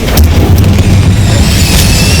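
Incendio fire spell in Hogwarts Legacy, cast with a loud, booming rush of flame that stays heavy and continuous, with brief bright flares in the high end.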